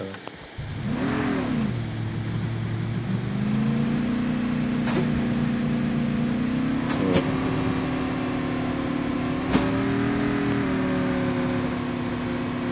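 A motorbike engine in a battle royale video game revs up and holds a steady, droning pitch for several seconds, with a few sharp clicks over it and no talking.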